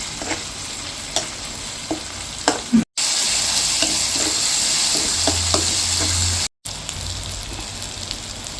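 Tomatoes sizzle in a hot pan while being sautéed for a dry fish (vanjaram karuvaadu) gravy, a steady frying crackle broken by occasional stirring scrapes and two brief cuts.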